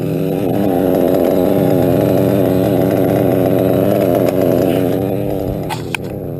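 A gas-powered RC car engine idles up close, loud and continuous, with a buzzing two-stroke drone that holds steady and fades slightly near the end, followed by a small click.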